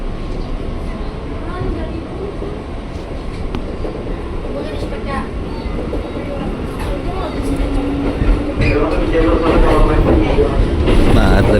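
A KRL electric commuter train from Depok to Bogor rumbles along with a steady rolling roar that grows louder toward the end, while a person talks over it.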